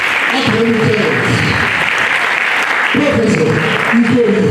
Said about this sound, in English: another round of applause for this academic